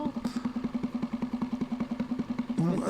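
A Mariner 3.5 HP four-stroke outboard engine runs at a steady idle, a fast even putter of firing pulses close by, with a brief clatter near the end.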